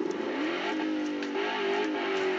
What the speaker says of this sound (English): I'm going to rev my engine in case you want to hear it.